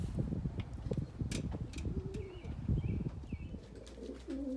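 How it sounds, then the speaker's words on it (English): A racing pigeon, a yearling cock, arrives home at its loft, giving soft cooing calls amid fluttering and scuffling close by, with faint chirps in the background. "That's the first bird. Should be a good pigeon."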